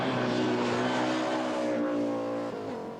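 A Ford rally car on a stage of the 1987 Circuit of Ireland roars close by with a loud, sustained engine note that sags slightly in pitch near the end.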